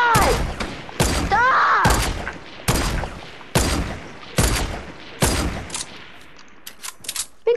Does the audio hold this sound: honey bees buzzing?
no